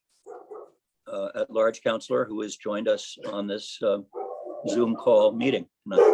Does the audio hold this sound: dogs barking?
yes